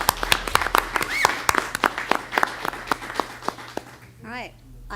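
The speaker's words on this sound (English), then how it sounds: "One more round of applause." Board meeting audience breaking into a loud round of applause, dense clapping with a few sharp claps and a cheer, tapering off near the end as a voice starts to speak.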